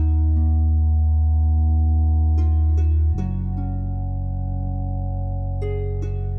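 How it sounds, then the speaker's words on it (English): Deep, sustained bass notes fill out the low end of a lo-fi hip-hop beat, a steady drone with a clear shift in pitch partway through, while soft chord tones sit above without drums. "I decided to jump on the bass and fill out that low end, and it sounds like this"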